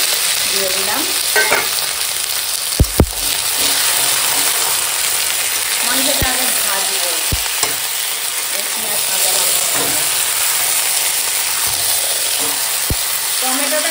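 Marinated chicken and tomato fry in a pan with yogurt, green chili and spices, giving a loud, constant sizzle and hiss broken by occasional clanks of stirring.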